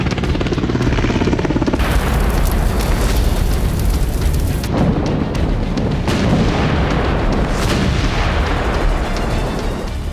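Dense, continuous roar of Russian missile and artillery strikes on Ukrainian cities, loud and unbroken for the whole stretch with heavy low rumble and a few sharper bursts, no voices.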